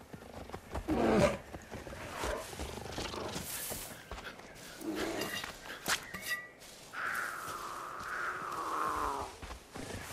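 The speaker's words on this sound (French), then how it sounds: "Canon, l'ours." A bear in Far Cry 5 roars and growls in several loud bursts, with a long drawn-out roar near the end, amid game ambience and no talking.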